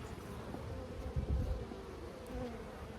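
Honeybees buzz around an open swarm hive during an inspection, a constant soft hum of many insects close by, with a couple of muffled knocks from handling the frames partway through.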